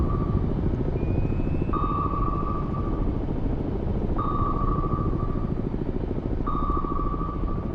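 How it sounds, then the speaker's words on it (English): In the video game Cold Waters, a helicopter's dipping sonar pings ring out over a constant whirring drone, three long tones spaced a couple of seconds apart. "I'm pretty sure that is the dipping sonar from the helicopter."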